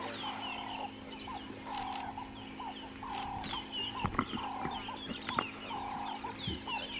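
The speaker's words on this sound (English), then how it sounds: "We've got doves calling in the background." Repeated soft, low dove calls in a rhythmic pattern against a quiet outdoor safari background in Africa at sunrise, with a few sharp clicks and knocks nearby.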